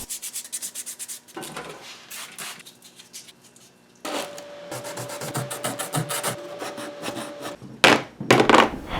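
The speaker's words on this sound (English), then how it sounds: "With all the resin coated parts finished, I gave them all a sand with 220 grit." Resin-coated parts are sanded by hand with 220 grit sandpaper, rapid rhythmic scratchy strokes in bursts, close and loud, with brief pauses between passes.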